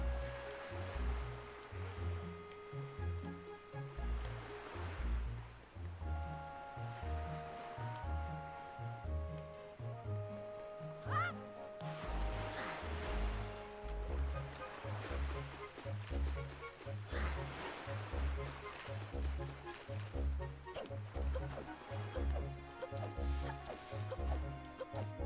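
Ocean waves wash and surge on the water in The Legend of Zelda: The Wind Waker, a steady rolling swell under prominent rhythmic game music with a deep pulsing bass throughout.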